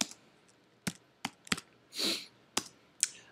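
Typing on a computer keyboard during a MySQL root password reset, sparse isolated key clicks with irregular gaps, one longer rustling press in the middle, close and clear in a quiet room.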